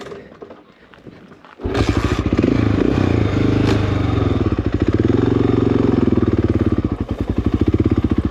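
Off-road motorcycle ridden on a Hanthana trail in Sri Lanka: after quiet ambience, the engine fires up loud and close at about 1.6 seconds and runs with a throbbing, pulsing rev that rises and dips as the rider moves.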